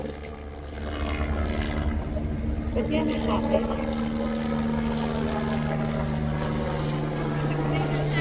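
A helicopter flies overhead, its steady low mechanical drone holding throughout beneath people talking close by outdoors.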